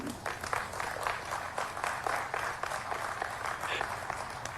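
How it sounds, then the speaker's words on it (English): A thin smattering of applause rises from a modest crowd, scattered claps blending into a soft, steady patter at a fairly low level throughout. "Smattering of applause for his fucking unbelievable pandering that he's doing right there."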